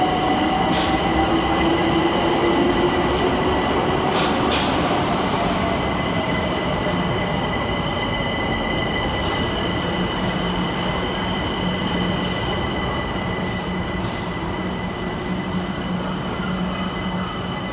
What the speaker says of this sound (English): 378137 arrives with the 1416 London Overground service from Dalston Junction